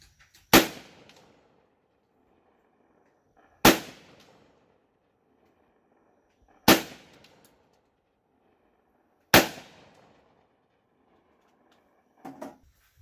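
Four sharp, loud blasts from a Citadel Boss-25 AR12 12 gauge shotgun ring out about three seconds apart, each decaying quickly, with a softer pair of pops at the end; no talking.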